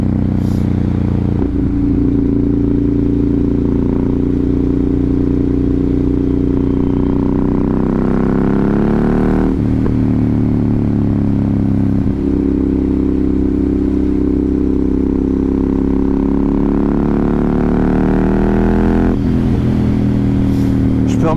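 A single-cylinder motorcycle rides a damp road, its engine droning loudly with shifting pitch through several gear changes and accelerations, under heavy wind rush.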